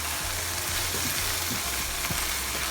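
Shepherd's pie filling with added stock simmering in a pan, giving a dense, steady bubbling sizzle close up with a few faint clicks, and no voices.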